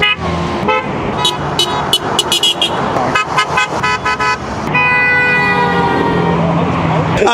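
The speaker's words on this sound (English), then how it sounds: "Chandler, are you getting a lot of honks" Car horns honk repeatedly in short blasts amid road noise, ending in one long sustained honk; voices can be heard underneath.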